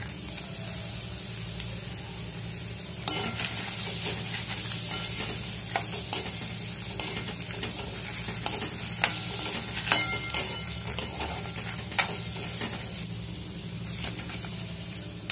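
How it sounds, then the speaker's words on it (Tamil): Ridge gourd peel sautéing in a pan for a South Indian thuvaiyal, a steady close sizzle punctuated by repeated sharp scrapes and taps of a spoon stirring against the pan. "எல்லாம் நல்லா வதங்கிடுச்சு."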